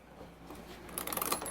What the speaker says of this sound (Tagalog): saksak nyo yung susi